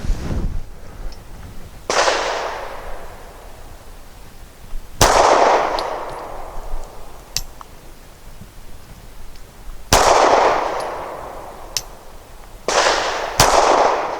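A Gill Arms GPR 9M 9mm pistol fires NATO-load ammunition at an outdoor range: several sharp, loud single shots spaced a few seconds apart, each followed by a brief ringing decay.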